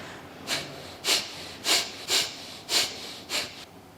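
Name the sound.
kapalabhati forceful breathing through both nostrils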